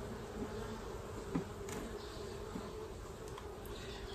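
Honey bees at an open hive on a hot day, a steady, dense buzzing hum that holds close and even throughout, with a few brief louder passes of individual bees.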